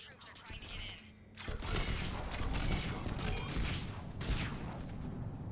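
Gunfire in the Mass Effect video game, bursts of rapid shots crackling loudly after a quieter opening second, continuing in dense volleys to the end.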